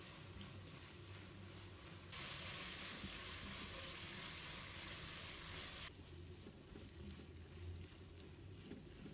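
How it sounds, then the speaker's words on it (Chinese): A quiet, steady sizzle of dry-pot cauliflower and scallions being stir-fried in a wok, which turns into a louder hiss for a few seconds in the middle, with scraping stirs over it and no talk. "继续翻炒"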